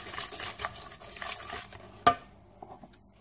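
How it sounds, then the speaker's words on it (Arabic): Eggs and sugar are beaten by hand in a bowl, giving quick, close, irregular clinks and taps of a utensil against the bowl. One sharper knock comes near the end, then things go quiet. No voices. "غادي نخلط هذا البيض مع السكر الثقيل"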